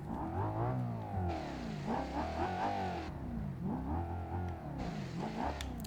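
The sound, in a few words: 390 GT car engine heard from inside, BeamNG.Drive video game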